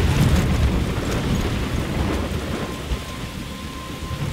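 A thunderstorm in the video game Life is Strange, set in a forest, brings heavy rain pouring down with rolling thunder rumbling throughout. It is loud and close, with no speech.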